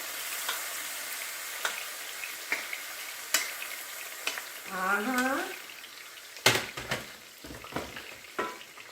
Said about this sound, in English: Now I'm sauteing this in the pan.